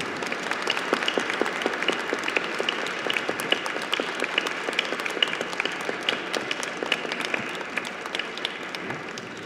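Audience applause at a book presentation at a book fair: steady, dense clapping from a sizeable crowd, moderately loud and continuous for the full stretch with no talking over it.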